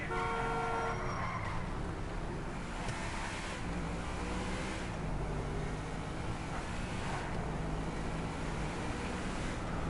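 In a PS4 driving game, a car engine drones steadily with tyre skids and rushing road noise, loud and continuous throughout, with no talking.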